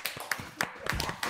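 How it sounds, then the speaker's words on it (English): Scattered hand clapping from a small group on a talk show, a few quick uneven claps over about a second, close and moderately loud. "Clap for me."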